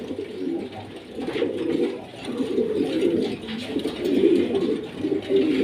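French pigeons in a loft, cooing in a continuous low, throaty, rolling series of coos close by, with no talking.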